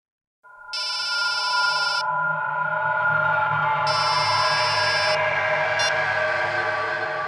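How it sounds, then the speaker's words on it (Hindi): A mobile phone rings with a synthetic electronic ringtone in two loud bursts over a sustained droning tone, the rings clear and close with no talking. "मैडम आपका फोन बज रहा है।"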